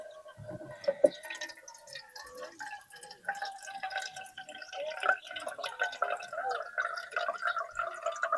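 Water drips and trickles at a riverside campsite, with irregular small plinks and gurgling bubbles, faint and close.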